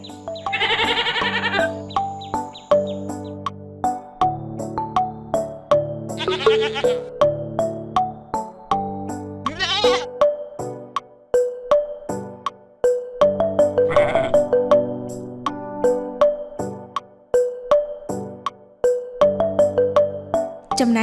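Farm goats bleating in a cheerful children's cartoon: several loud, wavering bleats come at intervals over bright, bouncy background music.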